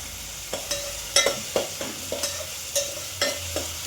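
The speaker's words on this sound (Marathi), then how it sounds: "याला मस्त आता भाजून घ्यायचं छानपैकी" Masoor dal with green chilies being dry-roasted in a pan, with a steady soft sizzle under repeated scraping strokes of a spatula stirring the lentils at a quick, even rhythm, close and fairly quiet.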